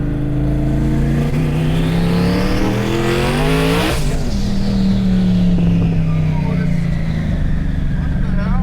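A Jeep Trackhawk SUV built to around 2,000 wheel horsepower accelerates hard on low boost during street racing, its loud engine roar climbing steadily in pitch, peaking near mid-clip and then settling into a lower, sustained drone.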